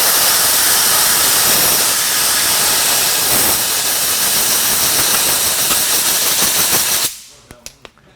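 A polisher spins at full speed while compounding scuffs out of vinyl wrap, a loud, dense, close-up roaring hiss that holds steady for several seconds, then cuts off abruptly into a few faint clicks.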